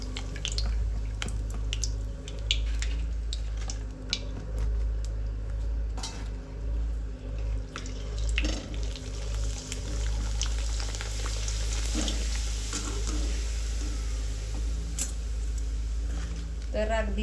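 A large papad frying in hot oil in a wok, a steady close sizzle and bubbling with scattered crackles and the clink of utensils, while someone talks over it.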